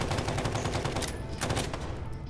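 Gunfire from a sniper rifle in Fallout 4 comes through as a few sharp, close cracks over a busy game soundscape, each shot a quick burst in a short, dense stretch.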